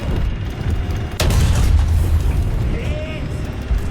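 An M1 Abrams tank cannon firing in War Thunder gives a sudden heavy boom partway through, over a constant low engine rumble, with faint chirping sounds after it.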